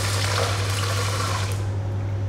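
Boiling water pours steadily and continuously into a pot containing ice, a close, full rushing splash that tapers off slightly toward the end.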